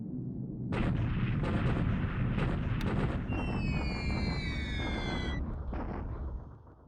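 Bombing in the War in the Pacific strategy game, a continuous dense rumble of distant explosions lasting several seconds, with a whistling tone partway through before fading out.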